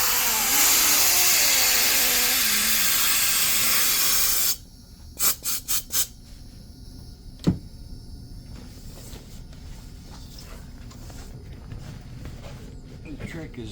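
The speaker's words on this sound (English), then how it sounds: "I'm using an air compressor just to make it easy." An air compressor inflates a Lifetime Manta inflatable kayak with a loud, steady hiss-and-roar that cuts off abruptly after about four seconds, followed by a few quick clicks and handling knocks in a quieter room.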